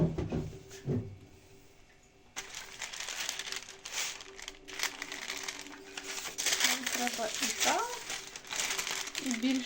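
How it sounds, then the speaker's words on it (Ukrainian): Paper crinkles and rustles loudly as a no-bake sweet roll is covered and slowly rolled out beneath it, continuous crumpling close by while people talk. "Ми його накриваємо цим папіром і будемо зараз е, помаленьку потрошки розкачувати."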